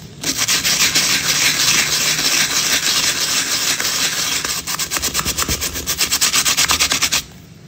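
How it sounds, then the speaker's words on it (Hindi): A brush scrubs a stain off leather worked with light foam, a close steady rasping rub that turns into quick rhythmic back-and-forth strokes before stopping abruptly. "यहाँ पे जी हमने हल्की सी फोम की और इसके पीछे ये ब्रश टाइप है"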